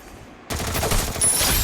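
A burst of rapid AUG rifle fire in a shooting video game lands a headshot, a sudden loud rattle of shots that breaks a near-silence and keeps going to the end.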